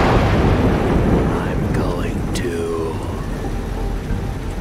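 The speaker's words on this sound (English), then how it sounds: "It is raining." Heavy rain pours in the video game Road 96, a loud, dense hiss with a deep rolling thunder rumble underneath that continues throughout.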